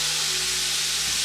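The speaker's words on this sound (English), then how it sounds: "So we'll just try to make sure these are browned on each side" Pork pieces browning in a hot pan give a steady, close sizzle with soft frying crackle and hiss throughout, no talking over it.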